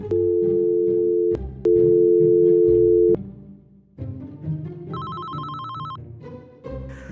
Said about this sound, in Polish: to tylko mój telefon.